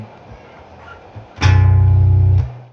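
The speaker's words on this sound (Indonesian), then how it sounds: "Saya selalu sengaja ngebiarin dua senar ini bunyi berbarengan" Two low bass guitar strings struck together ring out sharply for about a second, thick and rumbling, then cut off.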